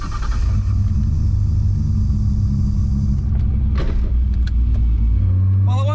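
Nissan Skyline GT-R under way on a public road, a steady deep engine and tyre rumble filling the cabin loudly, with a brief lull and shift in tone near the end.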